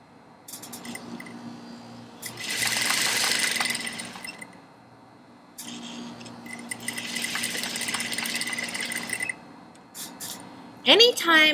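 An industrial sewing machine sewing a corset runs in two bursts of rapid mechanical stitching, separated by quieter pauses, followed by a few brief knocks and clicks.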